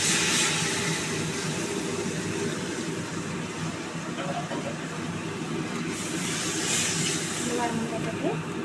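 Steady sizzling hiss of hot water poured onto fried spices in a pan, continuous and fairly loud throughout, with a faint burst of extra hiss near the end.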